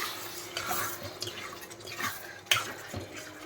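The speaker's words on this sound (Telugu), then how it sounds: "ఉప్పు వేసి ఒకసారి కలిపేసుకొని" Spoon stirring prawn curry in a cooking pot after salt goes in, soft wet scraping and light clinks of metal on the pot, close and quiet, with a sharper tap near the end.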